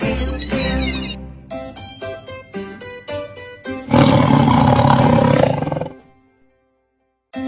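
A tiger roar from a children's animal-learning song, heard as a loud, sustained roaring burst of about two seconds, following earlier musical tones and meow-like calls, then trailing into silence.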